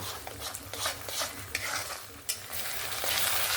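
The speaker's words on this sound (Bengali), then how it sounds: "ভালো করে মশলাটাকে এবার আমি কষিয়ে নেব" Spice paste with garlic and ginger paste sizzles in hot oil while a spatula scrapes and stirs it around the pan, continuous frying hiss punctuated by brisk, close scraping strokes.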